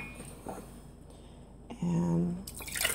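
Liquid poured from a large ceramic mug of about 14 ounces, a short trickling splash rising for about half a second near the middle, with quieter drips and handling sounds around it.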